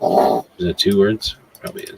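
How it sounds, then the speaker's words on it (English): A dog under a desk growls and whimpers in short, muffled bursts, mixed in with someone talking close to the microphone. "I'd like to apologize for my dog making a bunch of noises back there."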